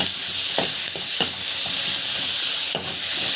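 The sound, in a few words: sautéing vegetables with salt in a pan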